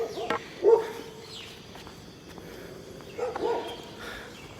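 Two dogs bark near a gas station along a dark roadside in Thailand, a couple of short distant bursts over a steady hum of night background noise.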